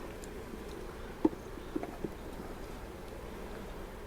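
A low, steady hum of honey bees buzzing at an open hive during a beekeeping inspection fills the background, faint and continuous, with a few soft clicks of movement.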